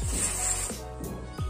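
Brake cleaner sprays onto Toyota Avanza brake parts in loud, close, continuous hissing bursts, briefly interrupted twice with dull knocks, with no talking.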